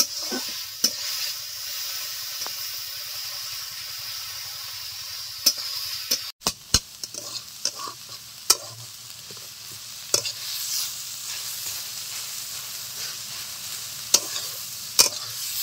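Pumpkin flowers stir-fry dry in a pan for a Bengali village mash, with a low steady sizzle broken by sharp spatula scrapes and knocks against the pan, close, with no voices.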